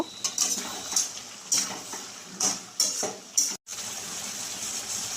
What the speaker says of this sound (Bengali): আলুগুলো দিয়ে মাংসের সাথে ভালোভাবে নাড়াচাড়া করে নেব